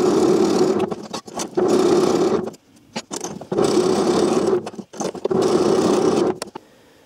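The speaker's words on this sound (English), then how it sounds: "Now I will use a drill press and a file to smooth out the edges which I have just cut." A drill press grinds and smooths freshly cut metal edges for an M-Jet 35 jet engine build, four long steady whirring bursts separated by brief pauses, close and loud with no talk.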